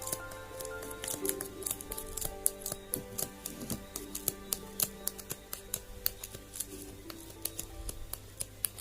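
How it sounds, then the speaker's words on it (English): Scissors snip through crochet yarn during a tube top project. Faint, quick clicks and snips come in an uneven run throughout. "you're going to cut off your yarn, and then you're going to cut it right across as well"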